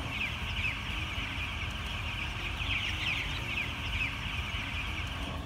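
Chickens clucking inside a commercial poultry house holding over 19,000 birds, a dense, continuous chatter of many hens at steady loudness with no talking.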